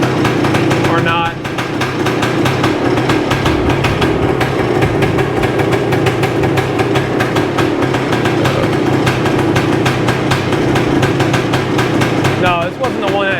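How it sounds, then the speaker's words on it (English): A 1978 Yamaha DT400E motorcycle engine idles steadily and loudly up close, with someone talking over the constant running rumble. "that's idling around 1500 RPMs"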